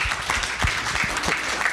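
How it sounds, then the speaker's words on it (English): Applause from a conference audience for a panel on cloud metro and 5G network edge, a short burst of dense, even clapping from a room of people. "Please keep joining me in thanking the panel with a round of applause"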